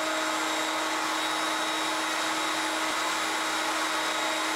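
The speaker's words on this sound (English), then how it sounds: "The loose tenon stock needs to be rounded over, and we'll do that with an 1/8 inch radius roundover bit." A router with a 1/8 inch roundover bit runs at a steady high-pitched whine with a constant airy roar while rounding over cherry loose tenon stock, loud and close without a break.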